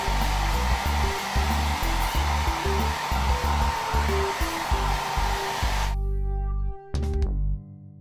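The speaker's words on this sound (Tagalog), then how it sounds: "Medyo basa, kaya kailangan natin siyang i-blower." A hair dryer roars steadily at close range for several seconds, drying damp bleached hair after a Brazilian blowout treatment, then cuts off abruptly, with a brief restart and stop near the end.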